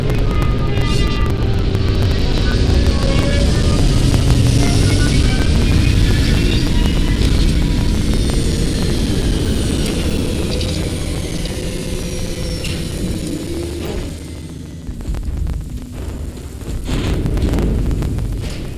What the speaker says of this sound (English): Landing strong primed. Retros firing.